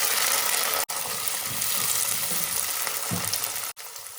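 Chopped beans and carrots go into a hot pan of oil with small onions, giving a steady close sizzle and crackle with soft stirring bumps and no voices.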